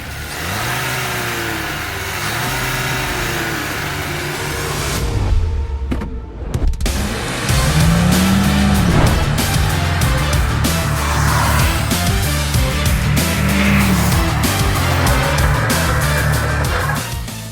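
A Škoda Slavia sedan on an MQB A0 platform is driven hard, its engine revving up and down in repeated rising and falling sweeps, loud and close throughout with a brief dip in the middle.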